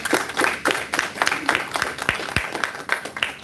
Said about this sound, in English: Let's give him one round of applause, please.